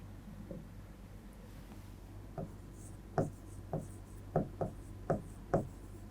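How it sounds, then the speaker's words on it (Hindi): Chalk or pen writing on a board during a Class 10 science lesson on teeth, heard as a series of short scratchy strokes that grow firmer toward the end, over a steady low hum, with no talking. "बारी बारी में लिखती जाती हूँ।"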